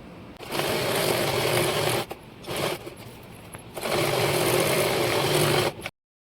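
A sewing machine stitches suit fabric in a steady, close whir, running in two long bursts separated by a short pause, with no talking.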